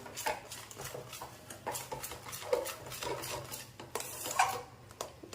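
Gram flour batter stirred in a pan for thapi vadi, with repeated metal spoon scrapes and taps against the pan in an uneven rhythm, close and fairly quiet with no talk.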